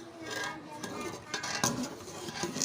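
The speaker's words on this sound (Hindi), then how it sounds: "जब भी आप खीर बनाएं याद रखें कि 7-7 चम्मच हिलाते रहना है" A spoon stirring kheer in a pot, with soft metallic scrapes and light clinks against the pot over a short stretch.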